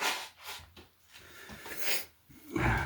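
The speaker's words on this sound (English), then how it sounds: "I really hate blowing my nose." A person blowing their nose, a few close breathy snorting blasts with short pauses between them.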